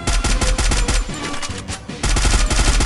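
Parafal assault rifle fired in Free Fire, the mobile battle royale game: loud, close, rapid automatic bursts that ease briefly in the middle, then resume at full intensity.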